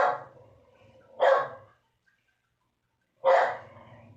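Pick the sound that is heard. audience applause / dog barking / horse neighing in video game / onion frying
dog barking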